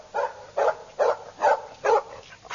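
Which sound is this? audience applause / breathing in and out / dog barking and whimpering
dog barking and whimpering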